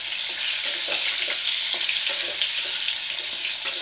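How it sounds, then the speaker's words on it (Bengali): Pointed gourd (potol) pieces fry in hot mustard oil, giving a steady, dense sizzle with light crackling pops throughout, close and continuous with no talking. "পটলগুলোকে ভেজে নেবো এবার।"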